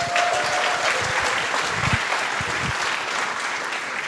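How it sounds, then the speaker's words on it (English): A crowd at the HackUTD 2024 hackathon opening ceremony claps loudly and continuously, a thick, close wash of many hands applauding in a large hall, with a few brief whoops near the start. "Huge round of applause."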